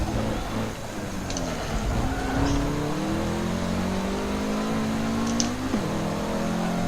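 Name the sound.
Charger car accelerating in a race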